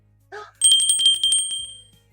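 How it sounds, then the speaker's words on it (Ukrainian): A small bell rings to call children to a lesson, struck rapidly about ten times in a bright, close ringing that then fades out. A brief soft sound comes just before it. "Ось і дзвоник вже лунає, на заняття всіх скликає."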